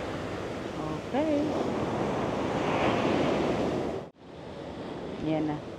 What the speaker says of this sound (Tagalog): Lumalaki na ng lumalaki yung alon eh.